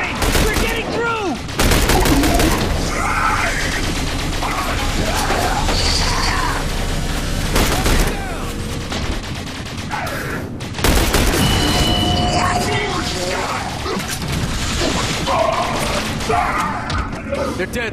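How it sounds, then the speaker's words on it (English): Sustained rapid gunfire and heavy impacts in The Bureau: XCOM Declassified, loud and near, with bursts overlapping continuously and soldiers shouting over the din. "Keep on firing!"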